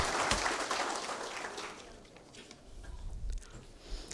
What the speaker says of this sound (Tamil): உங்களின் பரத்த கரகோஷத்தோடு வரவேற்று மகிழ்கிறேன்.